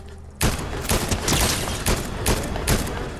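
A burst of gunfire rings out outdoors: a sudden loud shot followed by a rapid, irregular string of about seven or eight sharp reports over a few seconds, with no voices.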